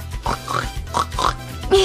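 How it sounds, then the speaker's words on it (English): A toy pig modeled on Pua from Disney's Moana gives a short run of electronic oinks and snorts, several quick grunts in a choppy rhythm, played close and moderately loud. "He's a little pig."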